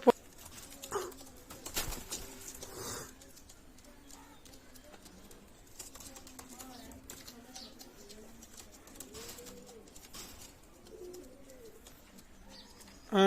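Red-eyed pigeons at a pigeon sale cooing softly, a few low rolling coos repeating in the middle, faint against quiet room noise with brief rustles and a clunk at the start and end.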